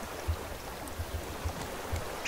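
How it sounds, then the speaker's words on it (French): Wooden raft rocking on ocean waves in the game Raft gives off a faint, odd low thumping, several soft irregular knocks over a quiet bed of lapping water. "Ah, le radeau, il fait un drôle de bruit."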